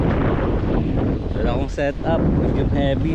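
Strong outdoor wind buffets the microphone with steady low rumble while fishing on the shore by rough water with large waves, and someone speaks over it throughout.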